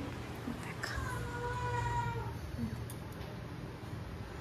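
A cat meows indoors in a house: one drawn-out, rising and falling meow in the first half, over steady low background hum, then quiet room noise.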